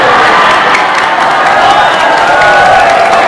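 Loud crowd cheering and clapping from an audience of mostly women at a humorous Islamic sermon, a dense, continuous roar of voices and applause throughout.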